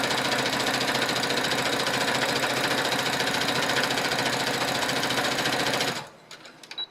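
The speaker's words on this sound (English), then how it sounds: "I'm using a foot pedal to control the sewing" A foot-pedal-controlled sewing machine stitches fabric rapidly and continuously up close, its needle chattering evenly before stopping abruptly, followed by a few light clicks.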